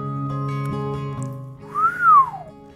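A storyteller's voice imitates a whistle: after a moment of hummed speech, a single clear sliding whistle rises and then falls away, close and fairly loud.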